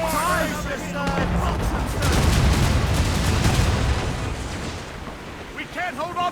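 Volleys of cannon and musket fire in a naval battle in Assassin's Creed Rogue, a dense rolling roar of blasts over splashing water, with shouted voices in the game around it.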